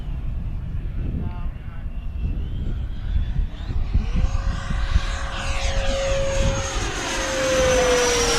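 A 105mm 12s electric ducted-fan RC jet plane roars past overhead, its whine sweeping in pitch as it approaches and recedes, over wind and faint voices.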